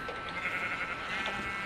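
Sheep bleating in the Minecraft video game, a soft wavering bleat over a steady game background, fairly faint and brief with no speech.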